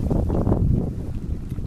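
A sailboat under sail at night with the tiller tied off; a brief, close low rush of wind and water noise that fades slightly toward the end.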